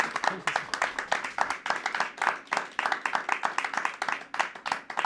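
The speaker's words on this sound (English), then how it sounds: "Can have a small round of applause for Barbara Emile." An audience at a masterclass claps for a guest speaker, giving a brief, moderately quiet round of applause with distinct, rhythmic individual claps that carries on steadily for several seconds.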